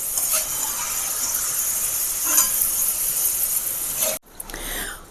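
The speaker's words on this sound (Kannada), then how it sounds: "ಚೆನ್ನಾಗಿ ಆಯಿಲ್ ಒಳಗೆ ಫ್ರೈ ಆಗಿದೆ ಎಲ್ಲ" Lentils and spices frying in hot oil in a pan on a gas stove, a steady bright sizzle with stirring scrapes, cutting off abruptly near the end before a softer sizzle resumes.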